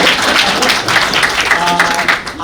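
An audience at a real estate panel discussion bursts into dense, loud applause, a continuous wash of many hands clapping that tapers slightly at the end.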